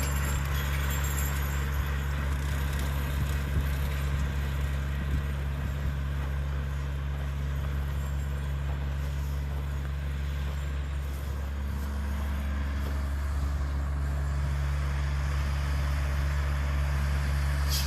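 A tractor pulling a bush hog mower runs steadily outdoors, its low engine drone continuous and moderately distant, without a break and with no talk over it.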